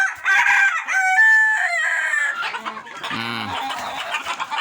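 Chickens clucking and a rooster crowing close by in a poultry pen, loud and clear with a drawn-out crow near the start and then shorter clucks. A voice speaks briefly near the end.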